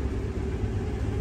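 A combine harvester's engine runs steadily under load, a continuous loud low rumble with broadband mechanical noise and no breaks, heard from inside the machine with no talk.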